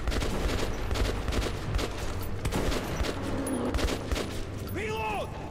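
Gunfire in the video game Metro, bursts of rapid shots running through the passage amid game noise, with a voice talking over it.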